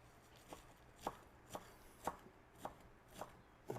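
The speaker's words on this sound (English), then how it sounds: "Just kind of chop it up" Italian parsley chopped with a knife on a cutting board, seven evenly spaced blade thuds about half a second apart, close and quiet with no talking.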